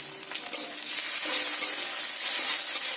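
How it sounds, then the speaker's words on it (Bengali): Garlic paste sizzling in a pan with onions already fried deep red, a steady loud frying hiss with occasional stirring scrapes, no talk. "এবার রসুন বাটা দিয়ে দেবো যে রসুনটা আমি বেটে রেখেছিলাম"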